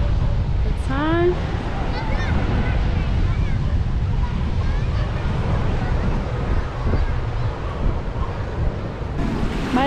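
Surf at Melasti Beach, Bali, roars as a steady low wash of waves under heavy wind buffeting, while a person talks over it at times.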